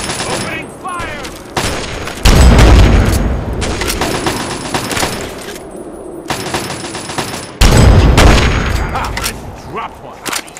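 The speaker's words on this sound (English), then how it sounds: "Targets in there! Fire! Opening fire!" Fallout 3 gameplay combat with sustained bursts of automatic gunfire and heavy booming blasts, loud and close, two big impacts standing out amid the rattling fire.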